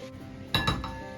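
A metal lid clinks down onto a pan of poha, giving a short, close pair of metallic knocks in an otherwise quiet kitchen.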